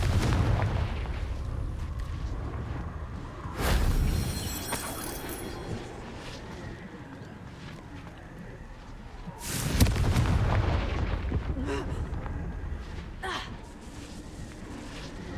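Confringo blasting-spell explosions in the Hogwarts Legacy video game, two loud booming blasts about six seconds apart, each followed by crackling debris and rumbling over a continuous low game ambience.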